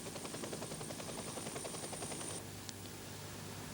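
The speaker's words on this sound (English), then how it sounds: "a helicopter service that makes travel to some of the more remote villages in the group very easy" Steady thudding rotor noise of a helicopter in the Faroe Islands, loud and continuous, cutting off abruptly near the end and leaving a faint low hum.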